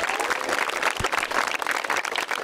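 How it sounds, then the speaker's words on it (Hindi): Students clap at a DAV Model School Children's Day celebration, a short burst of lively crowd clapping with one louder thump partway through, fairly close and loud. "एक बार जोरदार तालियां"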